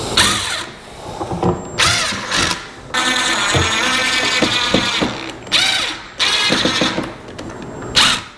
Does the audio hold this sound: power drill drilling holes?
yes